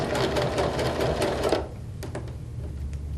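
A sewing machine back stitching through fabric, running in a steady loud mechanical whir for about a second and a half, then dropping to quieter intermittent stitching bursts and clicks.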